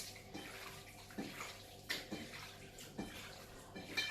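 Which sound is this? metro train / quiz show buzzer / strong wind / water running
water running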